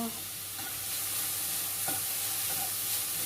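Galangal, lemongrass and kaffir lime leaves stir-fry in oil for a sweet bamboo shoot curry, giving a dense, steady, close sizzle with stirring throughout.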